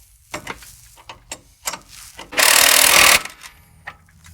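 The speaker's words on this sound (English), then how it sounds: "tighten your lower bolt." Lower strut bolt on a Ram 1500 being tightened during a Bilstein 6112 shock install, a series of sharp ratchet clicks and clanks followed by a loud one-second burst of a power tool, close up.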